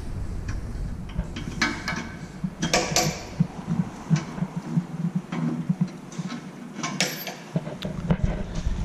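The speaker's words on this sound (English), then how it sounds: "And now to lower the chamber to get to the knives." Chamber of a GST 400-600 plastic granulator being lowered to expose the knife rotors and screen, giving scattered mechanical clicks, creaks and metallic knocks at close range, with no talking.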